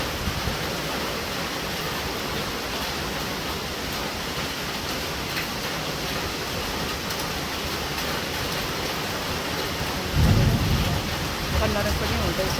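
Rain falls steadily on a rainy day, a dense, even wash of drops that stays constant, with a slightly louder low rumble near the end.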